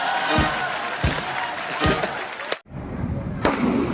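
Butterfly firecrackers go off outdoors on a Diwali night, with a series of sharp bursts and fizzing crackle close by, a brief lull, then another burst, while people talk nearby.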